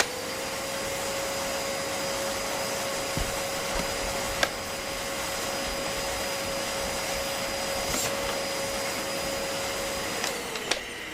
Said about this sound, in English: That's a vacuum cleaner.